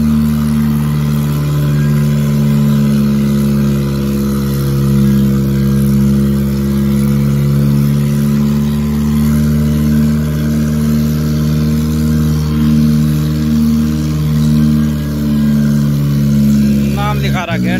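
Mahindra 585 DI Plus tractor engine labouring steadily while pulling an 18-disc harrow, a loud continuous low diesel drone that holds throughout with no talk.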